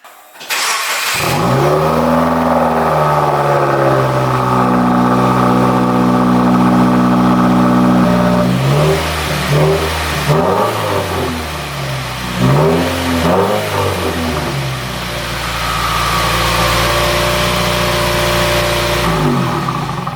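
A car engine starts and idles with a deep, loud rumble, then revs up and down several times before settling back to idle.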